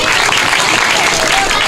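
Audience applause at a talk on violence against children, a dense, steady crackle of many hands clapping continuously and fairly loud throughout.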